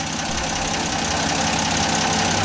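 A warmed-up carbureted engine idles steadily and loudly, a continuous dense rumble with a faint rhythmic knock, close to the microphone and with no voices.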